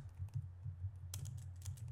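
Light, quick clicks of typing on a computer keyboard while writing a code comment, a soft uneven patter of keystrokes, close but quiet over a low hum.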